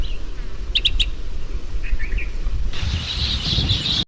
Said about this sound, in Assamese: আৱাজ শুনক চৰাইৰ চিৰিকটিৰ।